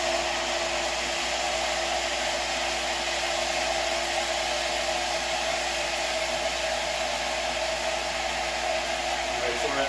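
A shallow well pump runs during priming, giving a steady, loud, unbroken motor whir with a constant hum throughout.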